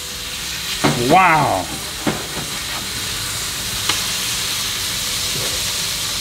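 A smash burger sizzles on GrillGrates over a gas grill, a steady frying hiss broken by a few short scraping clanks from pressing it flat. A voice briefly exclaims over it.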